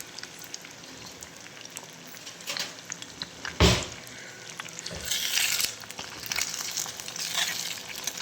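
Egg sizzling and crackling in hot oil, a steady fizz with scattered pops and a sharp clatter partway through.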